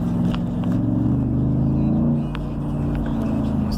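Jeep SRT8 fitted with a pedal commander, driven in second gear, its engine giving a loud, steady low rumble throughout, close and continuous with no talk over it.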